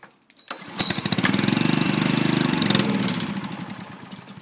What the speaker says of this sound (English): We'll do a cold start on this while we were thinking of it.